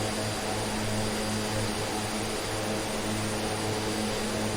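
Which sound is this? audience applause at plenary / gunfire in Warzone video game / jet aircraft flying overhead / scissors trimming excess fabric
jet aircraft flying overhead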